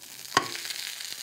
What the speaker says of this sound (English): Hear that? It's almost done.